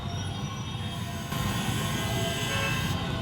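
Heavy traffic at a jammed Khajoori Chowk in northeast Delhi makes a loud, continuous roar of engines and road noise that fills the whole stretch, with no distinct horn blasts and no speech.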